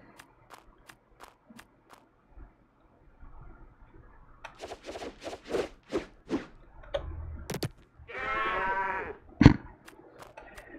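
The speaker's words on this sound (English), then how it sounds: "Our beastmen are mooing, I think." Minotaur beastmen in the Master of Magic strategy game let out a single drawn-out, bleating moo after a run of sharp clicks and brief thuds from the battle.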